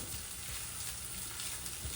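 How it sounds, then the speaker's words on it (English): Eggs and vegetables frying in a pan for fried rice, a steady sizzle with soft stirring scrapes running throughout, no voices. "I'm going to stir it all together."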